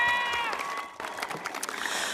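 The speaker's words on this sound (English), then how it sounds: "Please give a round of applause for all of our valedictorians and scholars of excellence" A graduation ceremony crowd at a high school applauds its valedictorians and scholars of excellence, with scattered clapping and light cheering that builds into sustained, moderately distant applause after a brief tone at the start.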